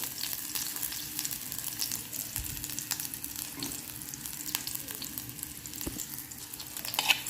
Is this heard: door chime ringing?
no